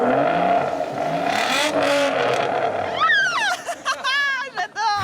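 A roofless convertible sports car's engine revs hard on the throttle, the pitch sweeping up and down in repeated bursts near the microphone while people talk over it.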